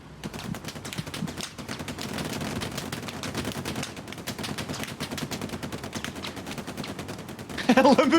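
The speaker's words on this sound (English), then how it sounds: "The tank is just sitting there fucking plowing the field with a machine gun" A tank's machine gun rattles in rapid sustained bursts in the video game Hell Let Loose, close and steady for several seconds, with a louder burst near the end.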